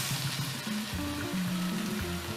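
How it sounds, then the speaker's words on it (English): Blended tomato, onion and chili pepper hitting a hot pot of cabbage stew, a continuous close sizzle and bubbling frying noise that stays steady throughout, with no talk. "At this stage, I'm going to add my blend vegetables, which is the tomato, onion,"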